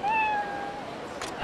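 Cat meowing in the samurai-era game Yakuza Ishin Kiwami, a single clear, loud meow with a rising then falling tone, followed by quieter game ambience and a brief noisy burst near the end.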